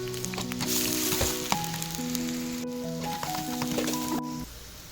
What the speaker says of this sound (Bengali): এখন পেঁয়াজটা আমি একটু হালকা একটু বাদামি কালার করে নেব।